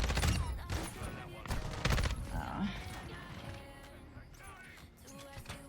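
Gunfire in a shooting video game: dense bursts of rapid shots in the first two seconds, then scattered fainter pops trailing off, with a voice talking over the action.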